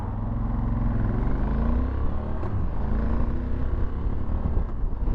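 A Honda Varadero 1000 motorcycle engine runs loud and close with rushing wind, its pitch climbing and dropping as the rider revs it.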